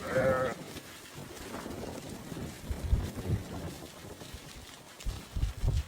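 Naeemi sheep bleat intermittently amid wind noise and low rustling outdoors, several short calls at moderate distance with a faint voice now and then.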